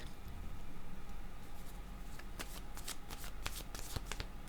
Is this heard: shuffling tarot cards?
yes